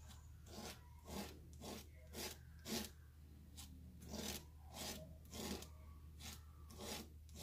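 Craft paste being scraped across a stamping surface with a palette knife, making repeated rasping strokes in a steady rhythm of about a dozen passes, close and fairly quiet, with no talking.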